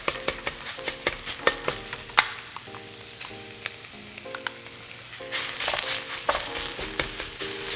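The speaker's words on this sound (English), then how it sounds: "Here I'm just adding in some minced pork." Minced pork frying in oil in a wok, a steady loud sizzle with repeated scraping and stirring clatters of the utensil against the pan, no voices.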